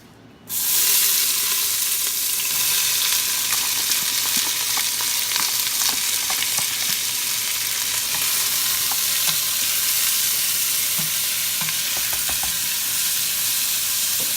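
Vegetables for Louisiana-style red beans and rice sweat in a hot pot, a steady close sizzle with scattered pops and crackles that starts abruptly after a brief quiet moment and continues without talk.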